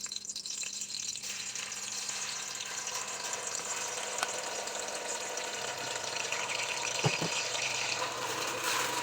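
Chopped onions frying in oil in a cooking pot for Egyptian one-pot koshari, a steady close sizzle and crackle that runs the whole time with a brief stir or clatter near the end.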